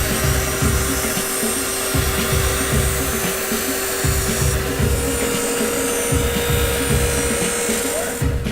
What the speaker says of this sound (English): then I simply turn the machine on. And the wheel is just going to follow the shape of the steel.